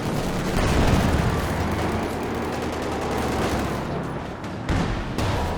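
Tank attack rounds and gunfire in the war video game Company of Heroes 2, a dense rumbling barrage of shots and blasts that swells and then breaks into a few sharper cracks near the end.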